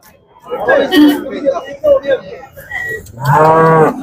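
Jersey and HF cross cows at a busy Friday cattle market in Chinapuram; people chatter nearby before a cow lets out a loud, close, drawn-out moo.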